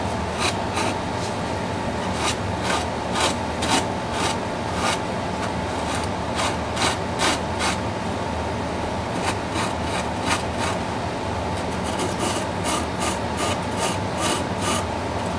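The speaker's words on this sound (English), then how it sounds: "I just take one of these foam sanding blocks or sponges, and I kind of go at a 45-degree angle" Steady, continuous scratchy rubbing of a foam sanding sponge at a 45-degree angle against a small F-14D Tomcat scale model part, rounding its corners, with quick bursts of stroking that come and go throughout.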